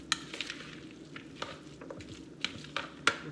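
A salmon croquette mixture with seasonings is stirred in a bowl, giving a soft continuous mushy churn broken by several sharp clinks of utensil against the bowl, close up and with no talk.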